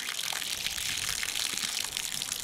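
Water gushing out onto a grassy pasture at an off-grid wilderness homestead, a steady, close, dense rush of flowing water with no pauses and no voices.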